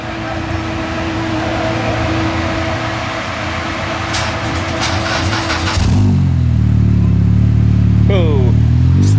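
A rear-wheel-drive car is heard from behind as its engine whirs over an idle, then catches about two-thirds through into a deeper, louder running note with a brief rev near the end; voices talk nearby.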